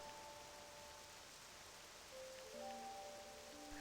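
Steady rain falling in the video game Octopath Traveler II, a dense broadband hiss that stays even throughout, with faint musical tones over it and no talking.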